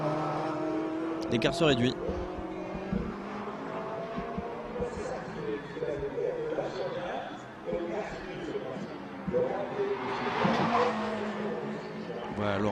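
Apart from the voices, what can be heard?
Ferrari GT race car of CMR by Sport Garage racing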